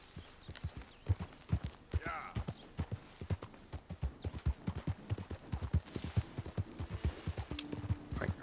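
Horse hooves clip-clopping at a steady trot in Red Dead Redemption 2, an Arabian horse, rhythmic, close and distinct, with a brief whinny and a few distant game sounds mixed in.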